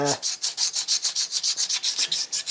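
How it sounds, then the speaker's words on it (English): Fine side of a sharpening stone rubbed back and forth along a forged steel chef knife with a feather pattern, a steady rhythmic series of about fourteen close, even gritty strokes with no talk. "Took most of it off with the stone, with the fine side"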